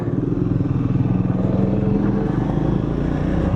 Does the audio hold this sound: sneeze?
no